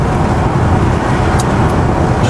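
A 1986 Ford F-150 pickup truck engine idles steadily and loudly up close, a constant low rumble with no talking.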